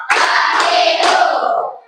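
A group of people claps in unison at a gathering, a dense, loud burst of hand claps held for nearly two seconds, close and filling the space, with no voices over it.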